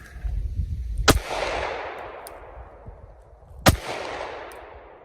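Two sharp pistol shots from a Shield Arms S15 fed with a Glock 43 magazine, about two and a half seconds apart, each a loud crack followed by a fading outdoor echo.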